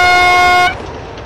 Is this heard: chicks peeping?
no